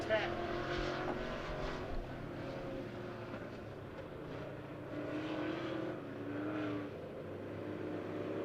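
Midwest Modified race cars running the last lap of a heat race at Monett Motor Speedway, a continuous mid-distance engine roar that swells and fades as cars pass, with no other sound standing out.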